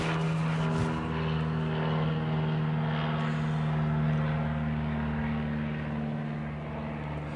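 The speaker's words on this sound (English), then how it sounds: "We have an airplane here." A propeller airplane flies overhead, a steady droning engine hum with a strong low tone that holds loud and even for several seconds and then slowly fades a little, heard outdoors with no talk.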